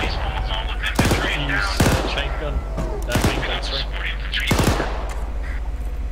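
A vehicle-mounted chain gun firing at infantry, sounding as four short, loud bursts of rapid shots spaced about a second apart over a steady engine rumble, with radio chatter running underneath.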